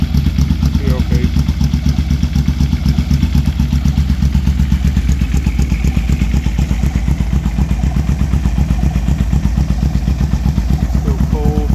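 A 1985 Yamaha Vmax motorcycle engine runs steadily on its first start after a carburetor rebuild, a loud, continuous rumbling idle with a fine mechanical clatter that holds throughout.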